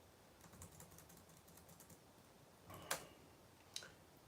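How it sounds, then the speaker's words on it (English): Typing on a computer keyboard: soft, scattered key clicks that end with two sharper, louder key strikes, recorded quietly and close with no talking. "I'm just typing something here for the Facebook."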